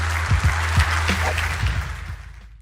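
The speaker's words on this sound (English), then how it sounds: "Let's give them a round of applause" Applause from a live event audience, a dense broadband patter with a low steady hum beneath, fading out toward the end of the brief burst.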